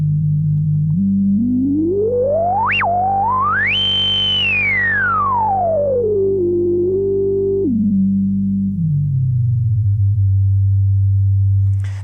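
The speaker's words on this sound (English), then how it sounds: "that's when this thing really becomes a self-oscillation filter." A pure, whistling tone from a Micromoog synthesizer's self-oscillating filter sweeps upward to a high peak, then glides back down and settles into a low steady hum, loud and alone.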